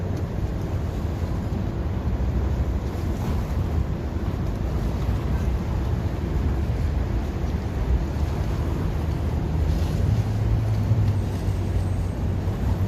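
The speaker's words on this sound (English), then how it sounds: "You could hear the waves clashing up against the side right there." Waves wash against the side of a boat in a steady, dense rush of water and wind noise, continuous and fairly loud throughout, with no clear individual splashes.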